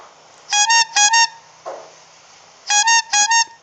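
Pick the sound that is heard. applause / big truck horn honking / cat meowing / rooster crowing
big truck horn honking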